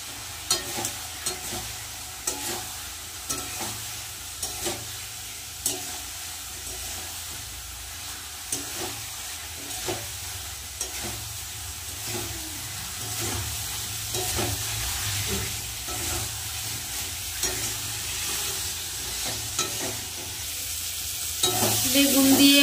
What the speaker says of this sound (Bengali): বেগুন দিয়ে ভালো করে মশলা কষিয়ে নিয়েছি